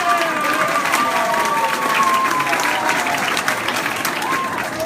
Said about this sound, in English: And you all were cheering like crazy.